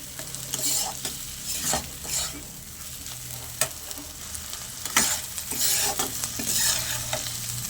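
Fried brinjal stirred into fried eggs in a pan, a steady sizzle broken by repeated scraping strokes of the spatula, close and fairly loud, with no voices.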